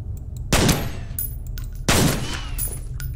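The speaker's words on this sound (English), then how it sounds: "God, I fucking hate the turrets." Automated turret gunfire in F.E.A.R., two loud, sharp bursts of rapid shots about a second and a half apart, each trailing into a metallic, rattling decay.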